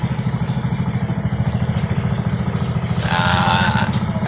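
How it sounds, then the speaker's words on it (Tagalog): A boat motor hauling in a fishing net at night: a steady, close, rhythmic diesel-like chugging with clattering pulses, growing a bit louder and harsher near the end, with no voices. "Ayun po, yung motor, hinahatak po yung lambat."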